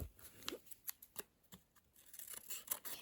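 Scissors cut into a plastic bag during an unboxing, a quiet series of short crisp snips and crinkles spaced irregularly, close by with no talking.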